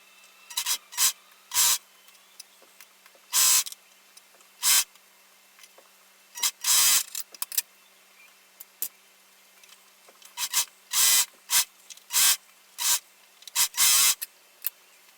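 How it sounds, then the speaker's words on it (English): Side seams of a Cleopatra costume dress being sewn, heard as repeated short bursts of rasping, whirring stitching activity that start and stop at irregular intervals, fairly close and with no talking. "now I'm going to sew the side seams."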